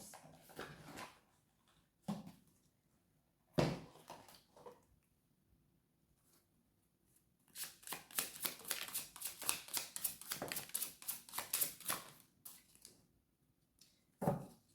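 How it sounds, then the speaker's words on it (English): Tarot cards are handled in quiet scattered taps and slides, followed by a denser run of crisp riffling shuffles lasting several seconds, then a few faint soft placements. "let me just pull some more cards"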